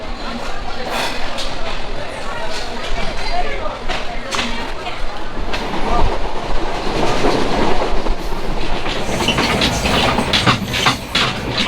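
The Chilahati Express train running on rails, loud continuous rumble with rhythmic clickety-clack of wheels over joints, heard from onboard with people talking over it.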